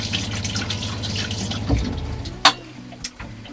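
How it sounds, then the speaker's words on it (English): Hands being washed with soap under a running hot tap, water splashing steadily before shutting off, followed by a few distinct drips and clunks in a quiet kitchen. "I'm just going to wash my hands. Some soap, nice hot water."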